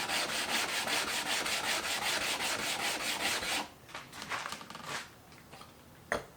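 Hand grinding of a 6-inch glass telescope mirror with 80-grit silicon carbide, a gritty rhythmic scraping of repeated back-and-forth strokes, close and steady at first, then softer and more broken near the end.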